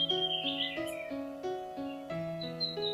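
Bird chirping over a steady tonal musical backing, a few short high calls rising and falling through three seconds, fairly faint and mixed into the music with no talking.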